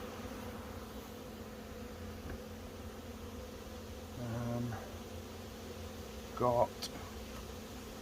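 A honey bee swarm gives off a faint, continuous buzzing hum while it is being caught, with a few brief knocks and handling noises. Someone speaks briefly.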